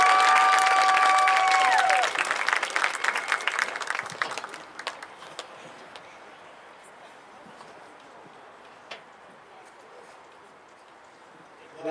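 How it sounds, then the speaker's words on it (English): A crowd at a high school boys' team senior night applauds their coach, loud and dense at first, then thinning over several seconds into scattered, fading claps. "why don't we give him one more large round of applause."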